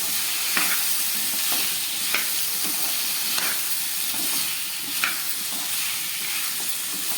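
Potato pieces frying and being stirred in a pan with garlic paste for an aloo curry, a steady sizzle underneath with several sharp scraping stir strokes spaced irregularly, close and alone without talk.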